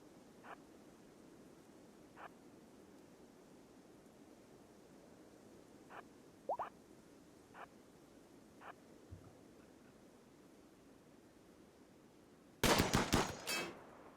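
Scattered gunfire and mortar shots in a Rimworld colony battle: sparse, faint distant pops over a steady hiss, then a loud close burst of rapid shots near the end.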